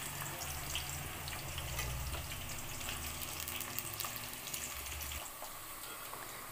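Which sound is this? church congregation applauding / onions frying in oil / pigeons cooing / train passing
onions frying in oil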